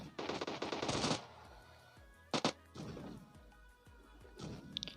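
Gunfire in the PUBG Mobile Lite battle royale game, solo against squad: a loud rapid automatic burst, then a short second volley and scattered later shots, with a sharp crack and lingering game ambience between them.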